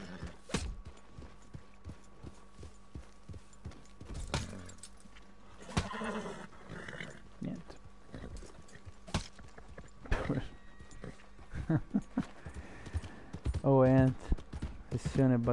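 Horse hooves clop and a horse neighs in the Red Dead Online video game, with intermittent hoof steps through the clip, a louder burst of activity near the end, and game sounds layered around them.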